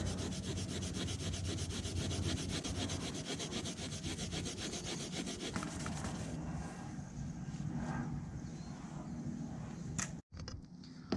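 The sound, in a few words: sanding a car bumper's paint with sandpaper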